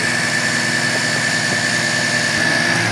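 An electric radiator fan motor runs steadily on a Suzuki F6 engine during heavy maintenance, a constant whirring drone with engine idle hum beneath it, close and unbroken with no talk.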